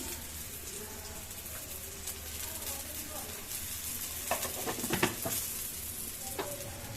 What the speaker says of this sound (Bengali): তারপর যাবে পরিমাণ মতো হলুদ হলুদ পেঁয়াজের সঙ্গে দিয়ে দিলাম হলুদ লবণ